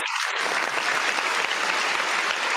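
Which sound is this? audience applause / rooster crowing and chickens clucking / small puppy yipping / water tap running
audience applause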